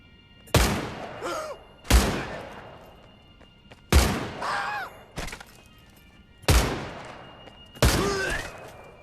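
M1 Garand rifle shots in the Medal of Honor VR game, five sharp booming reports spaced about two seconds apart, each followed by a short metallic ring and decay, loud and close with no speech.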